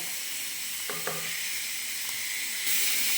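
One and a half to two spoons of ginger and garlic fry in oil in a pot for beef khara masala, giving a continuous close sizzle with a few brief clicks and stirs.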